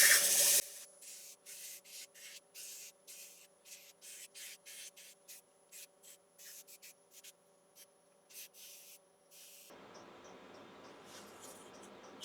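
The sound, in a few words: sanding woodturned handle with 240 grit sanding disc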